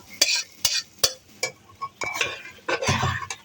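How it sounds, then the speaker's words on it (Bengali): A spoon scrapes and clinks against a pan while lentils are tempered with garlic, sharp metallic strikes repeating at a quick, uneven rhythm over a faint sizzle that grows busier at the end. "রসুন দিয়ে ডাল বাগার দিলাম।"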